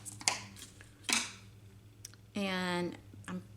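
Scissors snip through polka dot tulle during a paper craft project, giving a few short, crisp cuts and one longer rasping slice, close and fairly quiet, with no talking.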